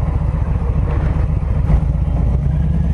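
A 2019 Harley-Davidson Softail Street Bob FXBB idles close by with a steady, loud low rumble and throbbing exhaust pulses, alone without talk.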